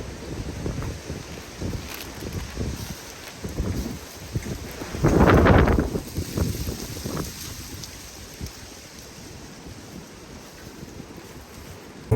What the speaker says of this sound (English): Man, it's really windy.